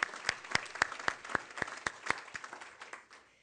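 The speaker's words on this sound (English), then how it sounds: "Would you please applaud her?" Scattered applause from a small audience at a social entrepreneurship awards event, with a few distinct sharp claps standing out before the clapping thins and fades.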